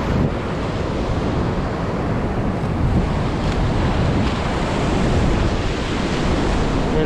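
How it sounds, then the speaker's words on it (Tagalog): Strong ocean waves breaking at a beach resort in Dinadiawan, Dipaculao, Aurora, a constant loud roar of surf mixed with gusty wind buffeting the microphone. "Lakas ng alon, lalo na doon sa banda roon."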